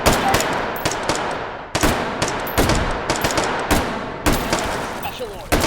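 Rapid gunshots fire in the VR shooter game H3VR, a loud, sharp series of bursts and single shots in quick succession with echoing decay.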